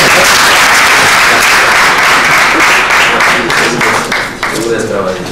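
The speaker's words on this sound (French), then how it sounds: "Donc je vous prie de l'applaudir." Loud, dense audience applause at a general assembly meeting, sustained clapping from a large crowd with voices mixed in.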